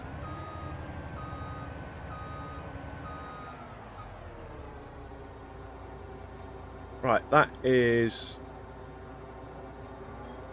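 A truck in Farming Simulator 25 hums with a steady engine drone, then beeps in short reversing bursts near the end, while someone briefly speaks.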